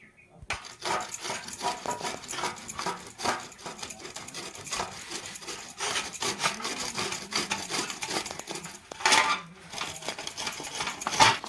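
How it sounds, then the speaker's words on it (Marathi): Radish being grated on a fine grater gives a steady run of quick, close scraping strokes, repeated rhythmically for several seconds at moderate loudness. "आता इथे मुळे तोडून घेतले बारीक किसणीवर किसून घेऊ"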